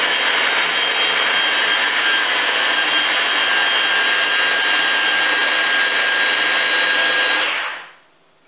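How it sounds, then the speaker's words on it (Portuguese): A hand immersion blender whirs loudly and steadily while puréeing fruit directly in a pot, a high motor whine running for several seconds before it switches off and spins down to near silence. "Também podem triturar diretamente do tacho com a varinha mágica"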